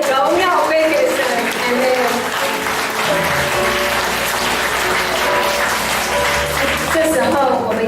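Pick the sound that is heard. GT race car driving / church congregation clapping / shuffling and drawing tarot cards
church congregation clapping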